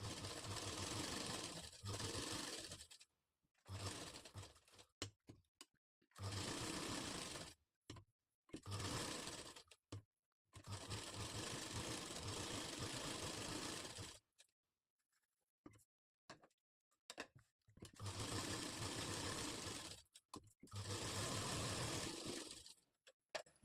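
Sewing machine stitching a blouse lining onto the main fabric with a long stitch, running in repeated bursts of steady whirring separated by short pauses, close and clear with no talking.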